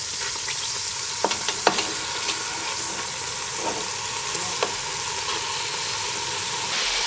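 Pieces of meat frying in a hot Dutch oven for Irish stew, a steady close sizzle with a few sharp crackles and stirring clinks, no voices.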